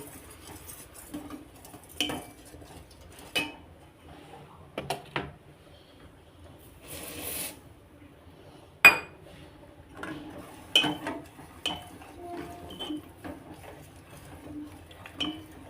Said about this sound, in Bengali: চিনিটা দিয়ে দুধটাকে বারবার করে নাড়তে থাকবো